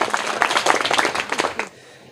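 Students clap for a classmate's correct answer in a school classroom, a short burst of group applause that is dense and close and stops abruptly after under two seconds.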